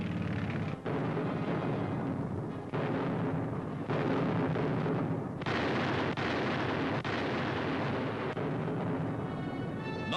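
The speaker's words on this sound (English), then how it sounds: "the British were attacking the entire Mareth line with tanks and big guns." Tanks and big guns fire during the British attack on the Mareth Line in North Africa in 1943, a series of heavy booming blasts and rumbling detonations arriving every second or two over a constant noisy wartime recording hiss.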